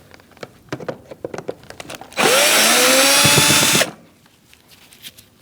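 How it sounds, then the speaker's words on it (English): A Phillips head screw gun loosening the screws around the airbox of a 2016-2019 Chevrolet Cruze gives one loud, steady whir of about two seconds, close by. Faint clicks and handling noises come before and after it. "now we're going to switch to a Phillips head screw gun or screwdriver"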